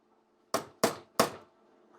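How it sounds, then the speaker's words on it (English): Three sharp hammer blows strike a 1967 car body panel in a garage, evenly spaced about a third of a second apart, each a bright metallic crack with a short ringing decay over a quiet background. "hammer into place."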